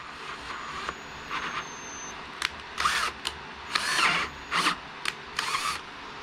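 Short bursts of a power drill boring out old threads in a hole for a Helicoil insert on an MK3 Supra, several separate whirring runs of a second or so with quiet pauses between, close by.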